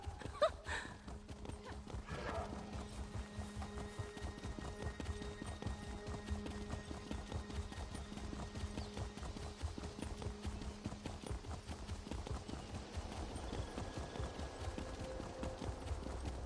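Horse hooves galloping during a ride in the online game Elder Scrolls Online (ESO), a fast steady clip-clop rhythm sustained throughout under soft background music, with a brief snort near the start, no talking.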